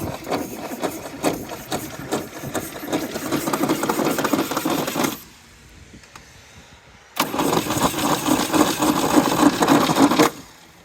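An old Pontiac engine that sat unused for 25 years cranks on its starter in two loud, rough bursts of several seconds each, separated by a short quiet pause, with no running catch.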